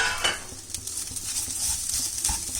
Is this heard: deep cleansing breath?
no